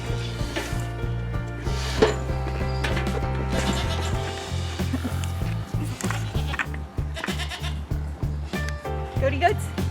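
Goats bleating on a farm, several calls rising over a busy backdrop of music-like tones and people talking, repeated bleats clustered near the start and end.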